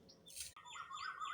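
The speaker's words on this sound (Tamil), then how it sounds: "காருண்ய அருள் வள்ளலார் பிரசாதம் பறவைகளுக்கும் மயில்களுக்கும்" Small birds chirping and tweeting steadily at a brass vessel of grain and rice set out as a food offering for birds and peacocks, with bright repeated calls close by and no talk.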